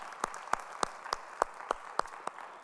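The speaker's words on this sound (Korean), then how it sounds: "우리 찬양을 받으실 주님께 영광의 박수 올려드리시겠습니다." A church congregation at a Sunday worship service claps in a slow, even rhythm, about eight distinct claps spaced roughly evenly, moderately close with a soft room ambience and no talk.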